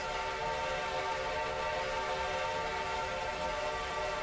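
Train whistle blowing for level crossings in the Railroader video game, a sustained multi-tone steam whistle chord held steadily and fairly loud for the whole stretch, alone without talk.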